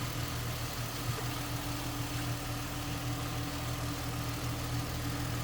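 A 2007 Ford Mustang convertible engine idles smoothly, a steady low rumble with even vibration, fairly quiet and unchanging throughout.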